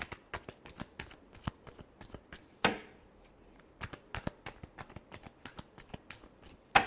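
Tarot cards shuffled by hand in quick, crisp riffling bursts, a steady run of close, soft papery flicks with brief pauses and one louder slap, no talking over them.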